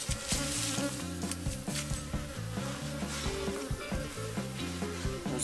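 Honeybees buzz densely and steadily around an open hive being divided by the caza nodriza method, a loud continuous drone of many wings filling the whole stretch, with faint knocks of hive parts beneath.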